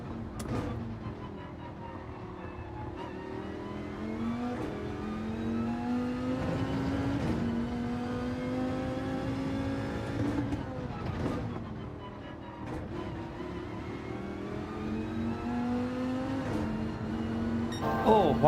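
A race car engine in Gran Turismo 7 revs and holds high in fourth gear, with a droning whine that rises and falls across the corner, as someone talks over it throughout.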